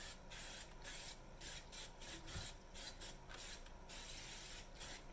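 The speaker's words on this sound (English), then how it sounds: "I'm going to make sure I spray my pan, or my little baking pan, so it doesn't stick" Repeated short hissing bursts of cooking spray onto a small baking pan, close up, several quick pulses in an irregular rhythm.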